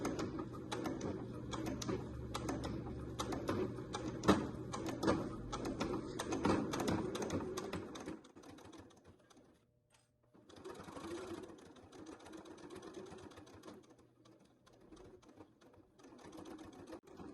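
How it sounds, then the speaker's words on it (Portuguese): Close, steady whirring and rapid clatter of a sewing machine stitching along a curved edge of waterproof twill, stopping briefly midway before a softer, slower run resumes. "vai sempre mantendo a beiradinha da manta com a beiradinha do seu calcador aqui, ó. E vai fazendo a curvinha"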